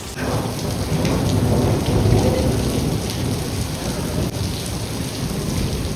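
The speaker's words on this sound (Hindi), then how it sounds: "ओले शुरू हो गए हैं" A heavy thunderstorm with hail: a dense, loud downpour drums steadily while thunder rumbles beneath it.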